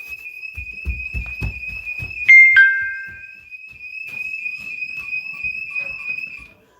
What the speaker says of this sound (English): Alarm was on.